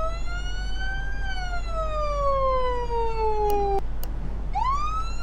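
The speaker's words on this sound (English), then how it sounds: "I can't get the siren off." An emergency vehicle siren from the driving game Flashing Lights wails loudly in long, slow sweeps over a low engine drone, cuts out with a couple of sharp clicks, then starts rising again.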